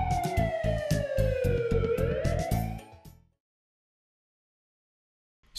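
A loud ambulance siren wails, sweeping down and up in pitch for about three seconds, then cuts off into silence.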